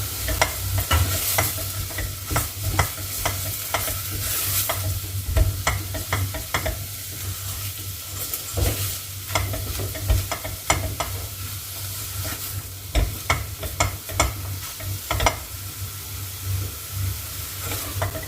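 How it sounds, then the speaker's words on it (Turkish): Flour being dry-toasted and stirred in a pan over lowered heat for a creamy mushroom soup, a steady scraping stir with soft sizzling and frequent spoon clicks against the pan, continuous and close. "Unu yaklaşık 1 dakika kavurdum."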